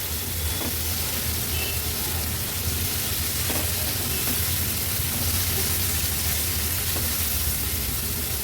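Small shrimp (kolbi) sautéing in masala in a pan for an Agri-Koli style fish thali, a steady close sizzle with a few faint scrapes of stirring, no voices heard.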